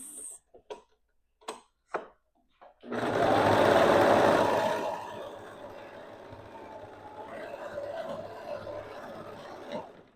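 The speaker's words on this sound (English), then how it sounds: "Now, back over to the serger. I'm just going to serge those seams so it looks really nice." After a few light clicks, a serger sewing machine runs along the seams of a dress with a loud, steady, close mechanical hum that eases slightly as it continues.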